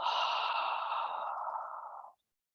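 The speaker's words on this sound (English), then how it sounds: "And then exhale." A long, steady exhaled breath during an outdoor yoga session on a dock, a close, breathy whoosh lasting about two seconds before cutting off into silence.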